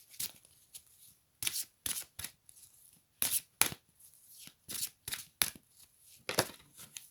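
Tarot cards are shuffled in a quiet room, close and crisp, in a dozen or so quick riffling bursts separated by brief pauses.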